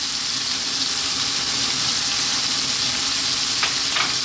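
Garlic hits a hot pan of frying bacon, raising a steady, loud, close sizzle that hisses evenly throughout, with a couple of brief crackling spatters near the end.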